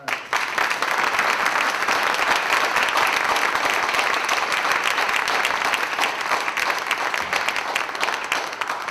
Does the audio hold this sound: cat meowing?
no